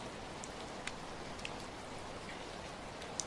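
Steady rain falls in a continuous wash with a few sharper drops ticking on a surface, with no voices.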